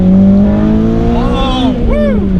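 Honda Integra Type R with a K20a engine pulling hard, a loud rising engine note that climbs steadily, then drops and climbs again through a quick gear change, with a voice briefly over it.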